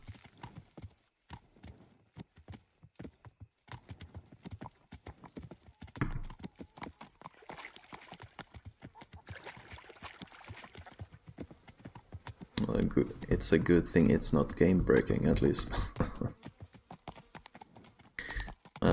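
Horse hooves clip-clop at a trot in the medieval video game Kingdom Come Deliverance, a steady rhythmic patter that swells louder toward the end, with someone talking over it throughout.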